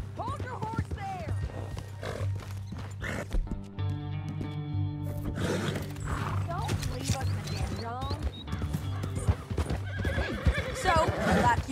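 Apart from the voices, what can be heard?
horses neighing and hooves, from video game Red Dead Redemption 2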